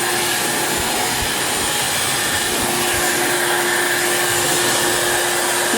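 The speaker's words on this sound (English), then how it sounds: "Keep on moving the blow dryer around." A hair dryer blows in a continuous, loud, steady whoosh as it smooths wrinkles out of a plastic gift basket bag.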